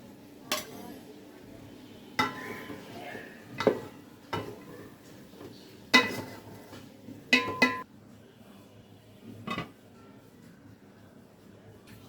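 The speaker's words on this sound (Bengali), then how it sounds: "এবার আমরা মাংসগুলো পোলাওয়ের মধ্যে দিয়ে দিব।" Chicken pieces go into pilau rice in a cooking pot for chicken biryani, with a few scattered metal clanks and scrapes of a utensil against the pot over a low, steady background and a faint sizzle.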